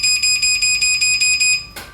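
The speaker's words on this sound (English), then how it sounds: "It beeps for about 5 seconds or so, and then it'll activate the garage door and close" Rapid, regular electronic beeping from a garage door opener warning that the door is about to close, about eight loud high-pitched pulses in quick succession, ending with a brief clunk or rustle.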